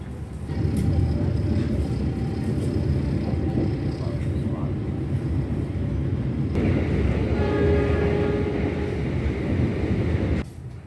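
Ranggajati passenger train standing at Mojokerto station, heard as a steady, loud rumble of idling locomotive and station noise throughout, with a tonal hum entering partway and a drop near the end.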